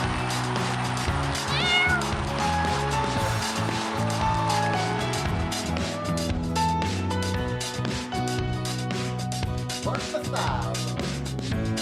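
A cat meows repeatedly over a dense, steady musical or soundboard backdrop, the meows rising and falling in pitch throughout and the mix staying loud without a break.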